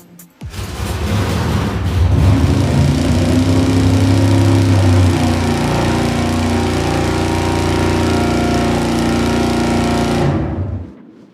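An engine runs steadily on a dynamometer for about ten seconds, its heating coolant aimed at 200 degrees, a loud, continuous droning roar with strong low harmonics that starts abruptly and cuts off near the end, with no talk.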